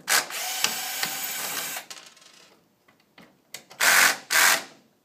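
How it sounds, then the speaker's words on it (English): Screw gun loosening screws on a Printrbot 3D printer bed, two loud close bursts of whirring with a pause between, followed by quieter handling clicks and two short final bursts of driving. "it'll just take a second because I've got a screw gun"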